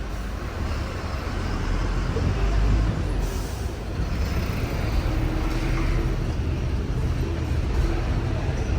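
A Payyanur bus rumbles past on a highway, producing a continuous broadband engine and road roar that swells slightly midway and stays loud throughout.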